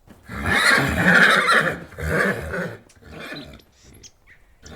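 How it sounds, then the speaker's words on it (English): A horse snorts and whinnies close by in several loud bursts of noisy breath, fading into quieter snuffles toward the end. "The sound you've just heard is snorting."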